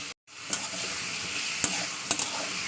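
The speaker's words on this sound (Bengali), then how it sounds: "করলা দেওয়ার পরে ভালো করে নেড়ে চেড়ে ওতে আমি হাফ চামচ লবণ এই হাফ চামচ হলুদ গুঁড়ো আর এক চামচ লবণ দিয়ে দেবো" Bitter gourd and potato stirred with salt and turmeric in a hot frying pan, a steady close sizzle with a few sharp spatula scrapes and clicks over the top, no voices.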